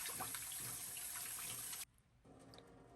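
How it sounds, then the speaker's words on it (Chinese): Cut chicken thigh pieces rinsed under running tap water in a sink, a steady close splashing stream that cuts off abruptly near the end, leaving fainter trickling. "将切好的鸡腿肉用清水清洗干净。"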